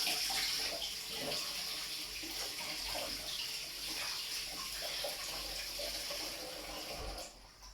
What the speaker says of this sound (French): Il faut que j'aille rincer mon couteau et mes mains avec.